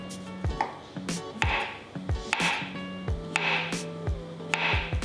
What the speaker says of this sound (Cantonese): 蘑菇切片